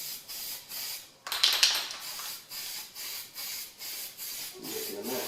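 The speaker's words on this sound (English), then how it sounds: "Or I should be spraying it everywhere and then wasting it." Aerosol spray adhesive applied to headliner material for a Pontiac Firebird T-top: a near hissing burst of a second or so, amid a steady pulsing hum and light rubbing.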